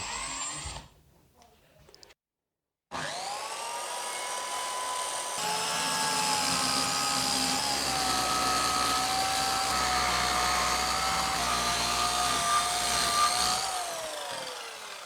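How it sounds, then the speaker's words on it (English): A circular saw spins up and rips through a wooden joist, a loud, sustained whining cut lasting over ten seconds at close range, with a pitch dip under load and a winding down at the end. "I clamped another joist on top to act as a guide, and then used the circular saw to rip all the way through."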